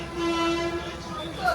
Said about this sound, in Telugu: వీరవాసరం నుంచి అయితే ట్రైన్ అయితే స్టార్ట్ అయిపోతుంది